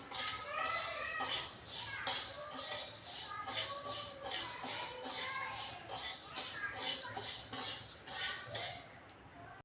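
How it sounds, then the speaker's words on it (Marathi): Roasted rice scraped and clinked out of a metal pan onto a cotton cloth, steady scraping and light metallic clatter throughout, fairly quiet, with no talk. "आता आपण तांदूळ पण कॉटनच्या कपड्यावर काढून घेऊया"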